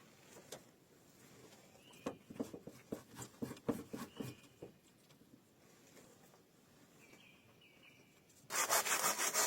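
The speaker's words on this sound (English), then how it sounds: "using a handsaw to continue preparing wood for upcoming projects" A handsaw cuts firewood in a snowy forest, a run of quick rasping strokes in bursts, fairly faint and close, followed by a loud rough noise at the end.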